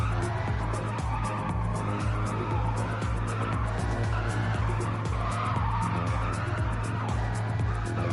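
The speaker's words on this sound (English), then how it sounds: "he wants to sit there and do burnouts" Car tires squealing in repeated burnouts during a Gran Turismo GR3 race, a continuous screeching skid over a droning engine, loud and constant with a low hum beneath.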